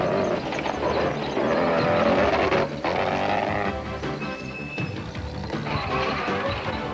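A four-wheel-drive rally car in the Roof of Africa 1990 rally in Lesotho roars loudly as it crawls over rocks, with revving engine, mechanical clatter and grinding across the whole stretch and no talk.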